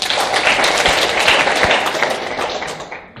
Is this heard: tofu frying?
no